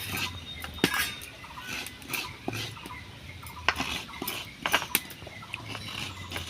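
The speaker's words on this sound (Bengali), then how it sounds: "দুটো নারকেল আমি ভালো করে কুড়ে নেব" Fresh coconut being grated by hand for Bengali semolina coconut pitha, a steady scraping rasp with scattered sharp clinks of metal and utensils against a bowl, close and fairly quiet, with no talking.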